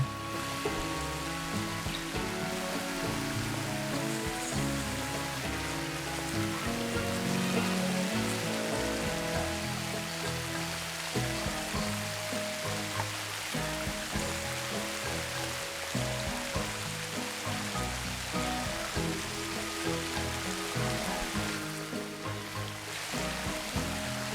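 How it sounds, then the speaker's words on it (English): A waterfall spilling off the edge of mossy rocks in a building video game makes a steady, even rush of water that carries on unbroken under a faint tonal background. "The waterfall that just runs off the edge of the rocks."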